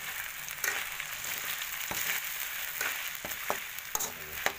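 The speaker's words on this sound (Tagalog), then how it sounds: "Haluin na po natin siya." Pork mechado with chili, rock salt and sugar sizzles in a pan while being stirred, a steady moderate hiss punctuated by several sharp scrapes and clinks of the utensil against the pan.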